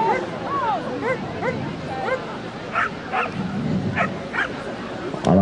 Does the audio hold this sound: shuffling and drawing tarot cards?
no